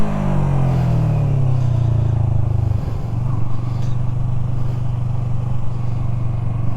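A Yamaha MT03 motorcycle engine pulls hard in second gear during wheelie practice, a loud steady droning roar heard up close, with a brief dip near the middle before it carries on strongly, with no talking.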